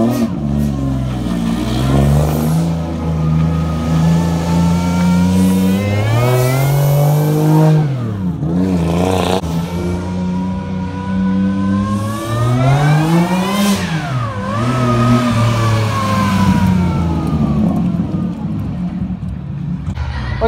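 A twincharged 1JZ-GTE VVT-i engine with a big BorgWarner turbo in an RX-7 FD drift car revs up and down repeatedly, rising and falling in pitch, close by and continuous with a whirring turbo edge.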